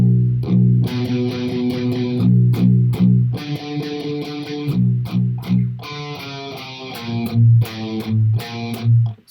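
Heavily distorted electric guitar tuned to B standard plays a chugging, stop-start metal riff, with palm-muted low hits and chordy bursts, loud and close, no voices.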